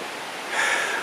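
A Caucasus waterfall pours as a steady broad hiss of falling water, swelling slightly louder partway through the short stretch, with no voices.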